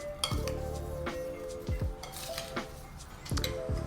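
Berries being stirred with lemon juice in a bowl, with a steady run of clinks and scrapes of a utensil against the dish over soft background music, close and moderately loud.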